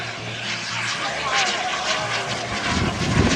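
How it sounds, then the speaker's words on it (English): A model jet, a Flashjet, flying a knife-edge pass at a jet event, a loud steady turbine roar passing nearby, swelling toward the end, with a voice talking over it. "he puts the aircraft up on the knife edge"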